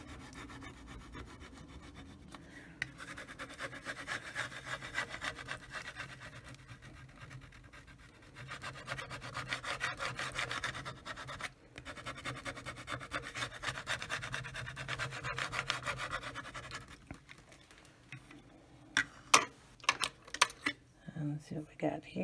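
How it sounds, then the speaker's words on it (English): A scraper rubs a vinyl decal onto a wooden bathroom sign in repeated close, quiet rasping strokes, followed by a few sharper taps and clicks near the end. "So we're just gonna scrape this one on."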